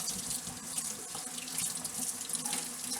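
Fresh mint leaves on their stems are rinsed under a running kitchen tap, a steady close hiss and splash of water that continues without pause.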